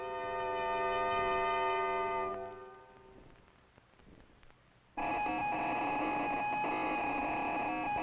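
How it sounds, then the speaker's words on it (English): A spacecraft component under pre-launch testing emits electronic tones: a sustained harmonic hum for about two seconds fades into a quieter crackly gap, then a louder buzzing multi-tone signal abruptly starts and holds to the end. "The sounds you hear are those made by a spacecraft component being tested before launch."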